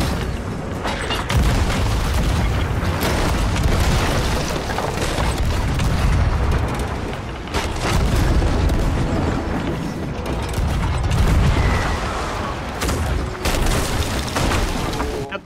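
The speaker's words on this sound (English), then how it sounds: "Just keep shooting, keep shooting. Snub cannon!" Snub cannon firing in the Sea of Thieves pirate game, heavy booming blasts layered into a near-continuous loud barrage of rumbling impacts that keeps going for many seconds.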